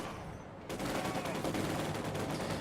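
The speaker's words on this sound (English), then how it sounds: "We have a Sturmovik attack. IL-2 will start strafing in a second." Strafing gunfire from an IL-2 Sturmovik attack in a real-time strategy video game, a dense continuous roar of rapid shots that starts abruptly and holds loud and steady to the end.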